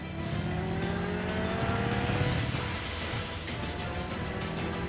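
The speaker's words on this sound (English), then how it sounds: "All right, motorcycle." Motorcycle engine from a Death Battle animation of Cloud versus Link, a steady loud revving drone with rising pitch sweeps and a busy mechanical roar throughout, no voices.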